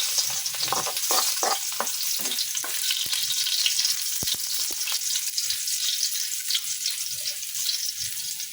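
Garlic sizzles steadily as it is sautéed in a pan for a kalderetang spare-rib dish, with a few scraping stirs and clicks early on over the continuous frying hiss.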